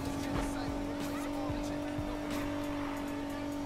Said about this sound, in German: Jetzt geht der Wagen ab. Jetzt schnurrt er wie eine Katze.